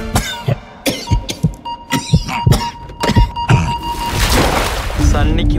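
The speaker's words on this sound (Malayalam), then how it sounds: "ഇത് പ്രശ്നമുള്ള ചുമയൊന്നുമല്ല." A man coughs several times in a Malayalam film scene, the sharp bursts spaced unevenly and close, with dramatic music swelling underneath.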